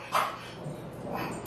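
One dog gives a short bark, then a fainter second yip follows about a second later, somewhat distant in a quiet kitchen.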